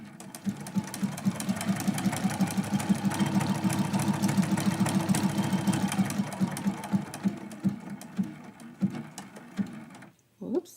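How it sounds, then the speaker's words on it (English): Sewing machine running steadily for about nine seconds, stitching down candy cane pieces while quilting a Christmas quilt-as-you-go block; a fast, even mechanical chatter that stops near the end, followed by a few handling clicks. "as we are stitching down the pieces for the candy cane, we are also quilting this block"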